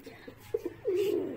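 A pigeon coos close by: a few short soft notes, then a longer rolling coo, with faint background noise.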